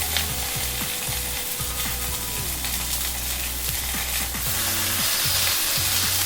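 Smoked bacon rashers and a slice of beef tomato frying on a cast iron grill, a steady close sizzle with intermittent metallic scraping and ticking, no talking.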